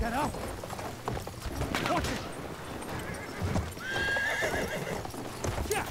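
Hooves clatter in a fast gallop while a horse neighs twice, loud and close, with a game-like mix of clanks behind, in the video game Battlefield 1.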